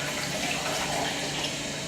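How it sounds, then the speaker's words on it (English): Water poured from a container into a blender jug, a steady soft splashing stream lasting under two seconds, fairly quiet and with no speech. "pouring the water into the blender"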